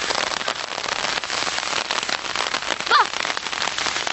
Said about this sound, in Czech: Prší mi do telefonu.